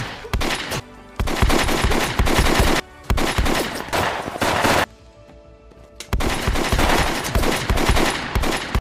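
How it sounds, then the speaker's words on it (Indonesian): A gangster film shootout scene, with dense loud bursts of rapid gunfire and fusillades, broken by short pauses and a quieter stretch in the middle before heavy shooting resumes. "Adegan baku tembak di sini berlangsung seru."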